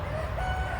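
Hens in a backyard coop make clucking calls close by over a low steady hum, short throaty sounds with no talk.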